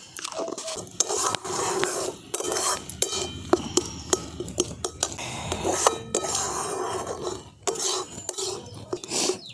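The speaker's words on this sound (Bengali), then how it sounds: "দেখুন পুরটা বেশ খানিকক্ষণ নাড়াচাড়া করে নিয়েছি।" Green pea filling stirred in a pan with salt and turmeric, repeated close metal clinks and scrapes of a spoon against the pan over a soft frying hiss.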